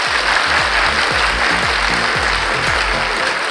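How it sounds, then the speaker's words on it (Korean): A large audience at a business lecture applauds a startup CEO as he takes the stage, continuous dense clapping over a rhythmic low thumping beat in the background. "여러분, 우리 대표님 나오실 때 큰 박수로 맞아주시기 바랍니다."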